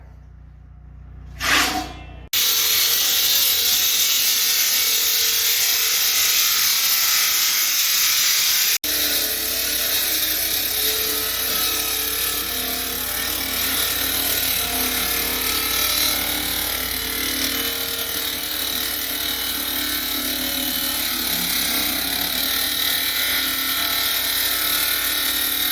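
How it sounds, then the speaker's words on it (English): A power saw cuts through a concrete wall for an egress window opening. After a short blip, a loud, steady grinding whine starts and runs without a break to the end. "They're getting ready to cut the concrete."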